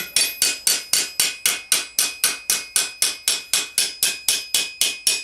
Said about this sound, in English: we do that just by tapping it around afterwards